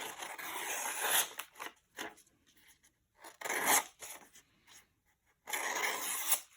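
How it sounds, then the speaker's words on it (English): Scissors slice through paper for a junk journal, several short close crisp cuts in separate bursts with quiet gaps between them. "Ooh, I like slicing."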